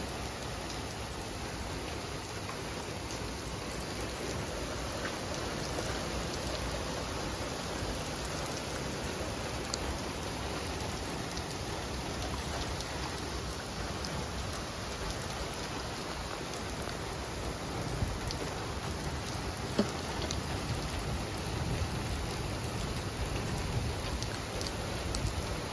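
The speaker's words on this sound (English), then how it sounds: "It rained last night here." Rain falls steadily as a constant, even hiss of drops on surfaces, unchanging throughout and heard alone without voices.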